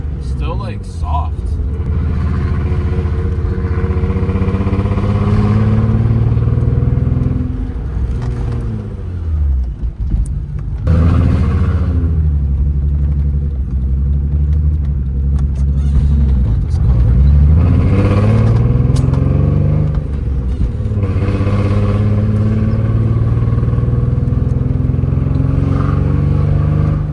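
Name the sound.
car driving while testing new brakes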